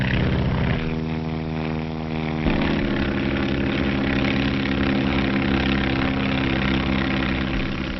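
The propeller engine of a 1935 skywriting plane drones steadily with a low, throbbing tone, its pitch shifting slightly as the engine note changes, with no voices over it.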